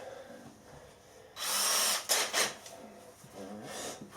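A cordless drill is drilling and tapping holes in a workshop. It whirs loudly in a sustained burst, then gives shorter stop-start bursts with quieter gaps between them.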